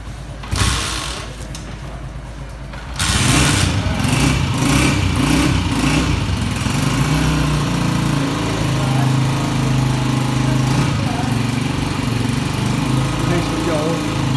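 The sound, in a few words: new Honda CG 125 motorcycle engine started and idling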